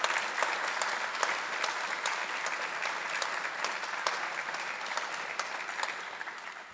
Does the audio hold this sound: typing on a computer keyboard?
no